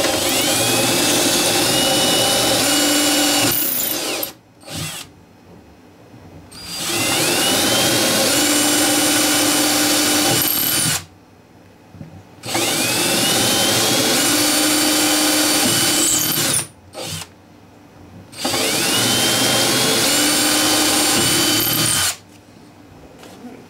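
Power drill boring holes for an acoustic guitar bridge being fitted during a handmade guitar build, in four long loud whirring bursts separated by brief pauses, with no talking.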